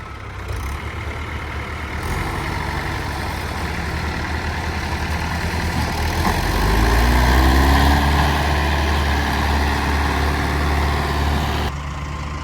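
A heavy, low old tractor engine rumbles steadily, then labors louder and deeper midway as if under load, holding a strained drone before easing slightly near the end.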